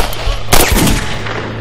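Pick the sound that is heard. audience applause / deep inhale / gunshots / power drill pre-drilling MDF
gunshots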